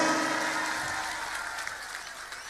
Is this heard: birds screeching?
no